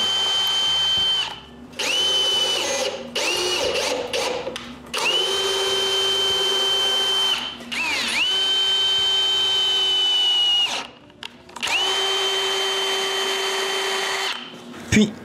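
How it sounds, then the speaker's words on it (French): A power drill bores holes in the guide of a wooden sharpening station, whining in several sustained runs separated by short pauses, loud and close. "je peux faire les trous et les tarauder"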